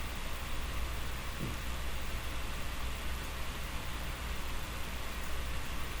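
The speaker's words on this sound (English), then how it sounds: "Keep in mind that fan rotation in the laptop set to the maximum RPMs at the Asus software" An Asus GL702VS Strix laptop's cooling fan spins at maximum RPM, giving a steady, even broadband whoosh that holds constant throughout with no talking.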